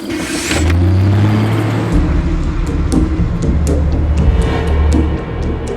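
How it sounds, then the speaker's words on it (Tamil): Bus pulling over to stop: a loud, near engine drone that drops in pitch as the vehicle slows, with a low rumble continuing underneath. "நான் வண்டியை ஓரம் நிறுத்துறேன்."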